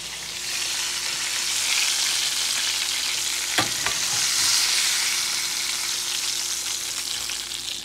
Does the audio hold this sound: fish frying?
yes